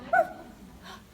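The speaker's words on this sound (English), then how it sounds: "I heard a bark." A single short dog bark, close and fairly loud, followed by a faint softer whimper-like sound.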